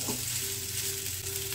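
Rice being stirred as it fries in a pan over a low flame for potato rice, a steady soft sizzle with faint scraping, close and continuous, no voices.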